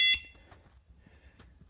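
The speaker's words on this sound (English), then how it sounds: "When the system is in alarm mode, triggering a sensor will produce an alarm siren sound." Home alarm system siren from the main unit, triggered by a sensor in alarm mode: a loud, shrill electronic tone burst at the start that quickly cuts off, leaving faint low background noise.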